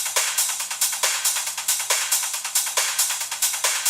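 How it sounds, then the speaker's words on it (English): Percussion in an electronic music track: a steady, evenly spaced pattern of crisp, bright hits repeating several times a second, moderately loud with nothing else over it. "Yeah, some percussions."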